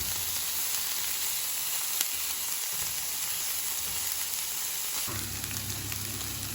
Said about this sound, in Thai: ใส่หอมที่เจียวแล้วค่ะ แล้วก็ผัดเลยนะคะ